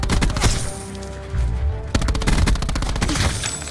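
Saug 9mm submachine gun fire in the video game Black Ops 4, with rapid bursts of loud automatic shots in quick succession and brief pauses between bursts, close and dominant.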